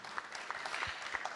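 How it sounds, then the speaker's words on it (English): Audience applause at an impact investing plenary session, a short burst of steady, dense clapping filling the room with no talk over it. "maybe a warm applause for this wonderful story."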